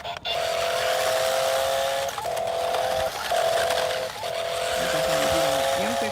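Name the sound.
1:12 remote control car driving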